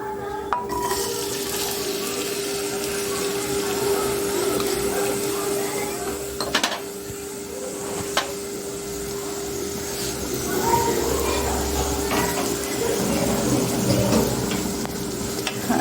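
Chopped onion fries in oil in a cooking pot and is stirred, giving a continuous sizzle with scraping, clinking spoon strokes against the metal, close and fairly loud, with no talking.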